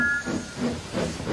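Steam engine hissing and chuffing in short rhythmic puffs with a high whistle-like tone, moderately loud and continuous, no voices over it.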